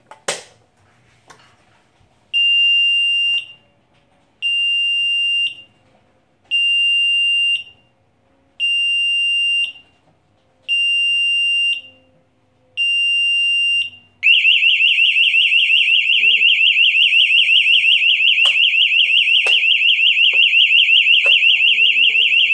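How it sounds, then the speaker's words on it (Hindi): A fire alarm panel sounds its alert: six loud, evenly spaced electronic tones with short gaps between them, then a continuous, piercing ring that holds to the end. "अगर इन केस अलार्म रहेगा 10 सेकंड तक तो दोबारा जो है वो स्टिल आपकी जो बेल बजती रहेगी।"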